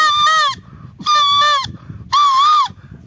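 A leaf blown between the lips imitates a koel's call in three loud, reedy whistling bursts of about half a second each, separated by short pauses, close and clear.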